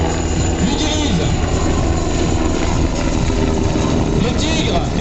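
A Eurocopter Tiger military helicopter at a NATO Tiger Meet in Cambrai roars loudly and steadily nearby with a throbbing rotor, while a voice talks over the engine noise.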